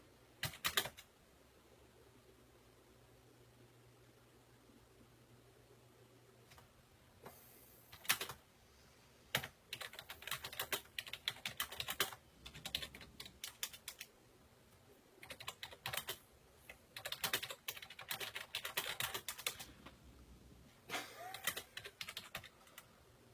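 A person types on a computer keyboard at close range, producing irregular bursts of quick key clicks. The bursts are separated by pauses and grow denser and faster toward the end, and no one speaks.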